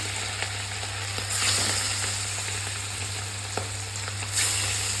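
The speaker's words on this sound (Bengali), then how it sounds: "তো দিয়ে দিচ্ছি তেলের মধ্যে দেখুন মাছ।" Large whole fish frying in hot oil in a home kitchen give a steady, close sizzle and crackle, with a couple of brief bursts of louder spattering.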